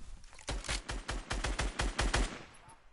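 Rapid automatic gunfire in the video game Fortnite, about nine evenly spaced loud shots in a quick burst, heard alone without talk.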